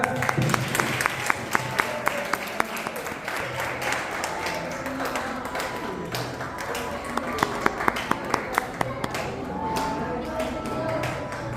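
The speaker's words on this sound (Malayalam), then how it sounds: "Clap clap clap." Family members clapping at a home get-together, scattered sharp claps and taps repeating through the clip over a busy background of voices and chatter.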